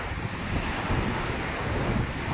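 Steady roaring typhoon wind buffets the microphone in the Philippines, with a rumbling low-end gust noise that stays loud and constant throughout, like a storm building outdoors.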